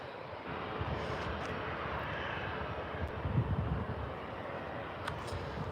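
A Jet2 airliner at Manchester Airport, a steady broad engine roar that holds for several seconds with a slight swell midway, loud and continuous under light wind noise, no talking.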